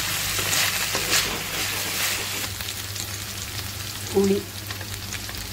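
Green chillies and garlic frying in hot oil for a pirandai thuvaiyal, a steady close crackle with a brief spoken word near the end.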